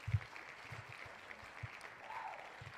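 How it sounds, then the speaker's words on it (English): Faint, steady applause with a few soft low thumps, heard alone for a few seconds during a live crypto trading stream. "I give you a big clap"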